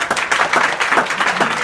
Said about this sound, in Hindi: ताली बजाओ अपने लिए सारे बच्चे